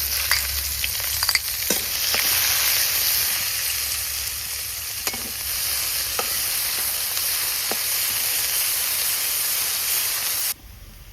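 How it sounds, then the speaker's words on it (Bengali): Onion dropped into hot oil with whole cumin and dried red chili, giving a loud, steady frying sizzle and hiss close by, with a few stirring scrapes, cutting off abruptly near the end. "এখন দিয়ে দেবো পেঁয়াজ।"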